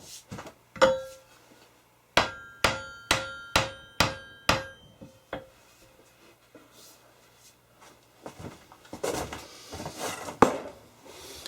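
Seven or eight heavy, sharp smacks ring out in a quick, even series as a Hults Bruk axe head is driven down onto its wooden handle, followed by quieter handling noises.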